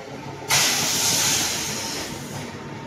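A loud hissing rush begins suddenly and holds steady as the 11041 Dadar–Shirdi Sai Nagar Express passes close through a railway station at night, then eases slightly toward the end.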